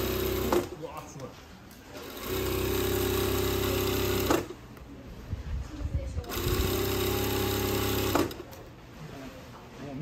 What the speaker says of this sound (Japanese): この薄い生地のミシン